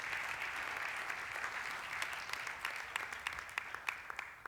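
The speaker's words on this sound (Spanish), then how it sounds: "Le das aplauso fuerte al Señor." Congregation applauding in a church service, continuous fairly faint clapping from many hands with individual claps growing more distinct toward the end.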